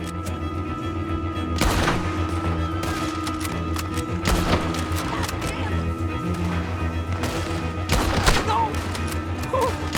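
Gunfire in Red Dead Redemption 2, several loud booming shots spaced a couple of seconds apart over a rumbling game soundscape, with a voice shouting in between.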